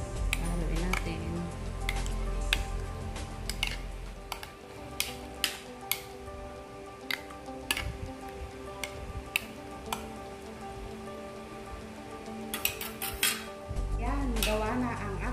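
A spoon stirs buko pandan dessert in a bowl, giving repeated sharp clinks and taps of utensil against the dish with a faint low hum beneath, close by and with no talking.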